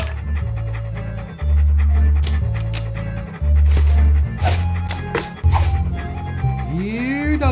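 A video game dog pants loudly in rhythmic bursts, close and heavy, with short pauses between runs of breaths and faint game sounds behind.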